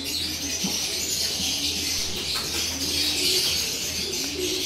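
Pigeons in a loft and aviary give soft, low cooing throughout, set against a steady hiss of background noise.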